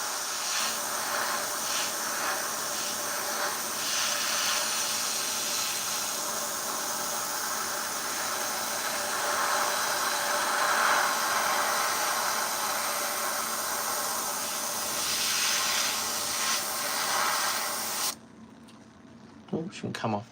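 Steady airbrush hiss spraying paint onto a model, a continuous broadband rush lasting most of the clip before cutting off abruptly near the end, with faint clicks and handling noise afterward.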